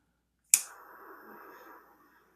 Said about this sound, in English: I use one of these kind of lighters